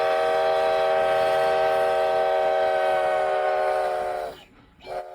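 A steam locomotive's whistle in Ely, Nevada blows a long, loud, steady chord, then cuts off abruptly with a brief final toot.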